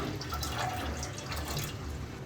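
Water is poured into a wide bowl to start a sugar syrup for gulab jamun, giving a steady, close, continuous splashing trickle for about two seconds with no talking.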